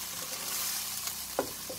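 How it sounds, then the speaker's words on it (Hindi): Garlic fries in a pan for kofta curry, a soft, steady sizzle with a single light clink of stirring near the end. "हल्का सा गार्लिक डाल के थोड़ा सा भूनेंगे"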